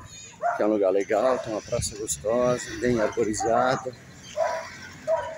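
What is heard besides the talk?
dog barking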